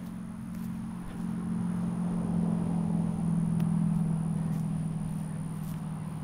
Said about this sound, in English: You get a little bit of the traffic noise here